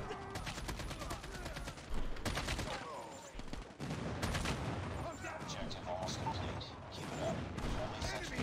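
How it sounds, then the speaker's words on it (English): An enemy airstrike in the Call of Duty Mobile game: dense, continuous gunfire and explosions in a loud, sustained barrage with a brief lull midway, game voices mixed into the chaos. "Enemy airstrike incoming."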